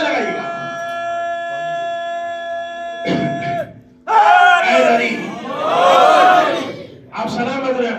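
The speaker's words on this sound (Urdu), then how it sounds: "مل کر نعرے لگائیے گا" A crowd of voices at a religious majlis bursts into loud collective chanting after a sustained tone, rising and falling in waves, with shouted slogans echoing in a large space.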